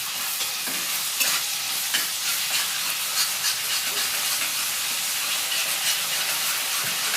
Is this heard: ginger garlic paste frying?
yes